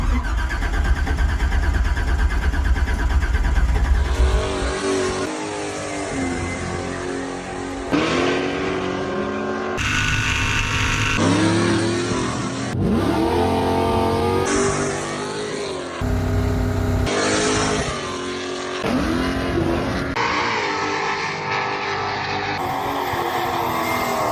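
An old racecar engine revs hard again and again, its pitch sweeping up and falling back in repeated bursts after an opening rumble, loud and close with no talking.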